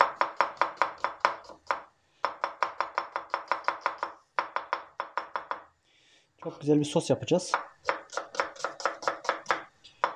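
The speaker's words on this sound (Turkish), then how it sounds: "Soğanı mümkün olduğunca küçük doğrayacağız." An onion is chopped finely with a knife on a cutting board in quick, rhythmic bursts of sharp taps, broken by short pauses, while someone speaks briefly over the cutting.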